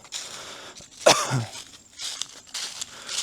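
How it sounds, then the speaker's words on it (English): One short, sharp cough bursts out close by midway through, surrounded by quiet room noise and faint rustling. "Apologies for my coughing."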